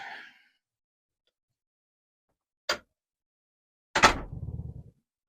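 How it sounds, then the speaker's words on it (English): A residential garage door closes in a quiet room near a turntable setup, heard as a sharp thud followed by a louder slam with a brief low rumble trailing off, preceded by a faint short sound. "that's the garage door."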